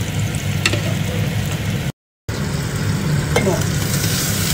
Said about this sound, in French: mes noix de Saint-Jacques, je les ai retournées